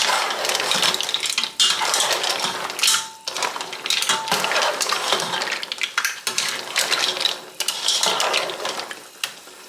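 A utensil stirs steamed mussels in white wine sauce with fresh parsley in a pot, giving loud, continuous clattering and scraping of shells against metal with irregular knocks and no talk.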